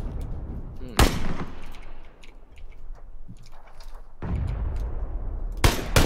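Gunfire in the battle-royale game PUBG, a few sharp broadband shots with a longer loud burst near the end, set against quiet ambient game noise.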